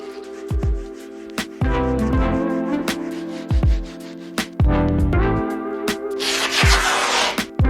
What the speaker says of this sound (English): I have a little bit of sticker residue on the wall, so I'm just gonna give it a quick sand to make sure it all comes off.